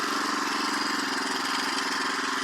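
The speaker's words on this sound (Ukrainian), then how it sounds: "Ось так працює двигун садко" A small petrol engine on a homemade single-wheel Sadko walk-behind tractor runs steadily nearby with an even, buzzing idle and no voices.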